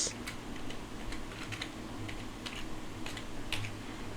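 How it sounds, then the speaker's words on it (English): Quick, light clatter of keys being typed on a computer keyboard, irregular taps in short bursts over a faint background hum, close and fairly quiet. "Then I'm gonna type the text"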